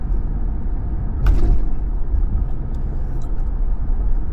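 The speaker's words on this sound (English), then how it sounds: "Already got a car. Gonna pass me on the inside." A car passes close by on a road in Chester, West Virginia, along the Ohio River, and the tyre and engine rumble swells briefly over constant road noise and a steady low drone.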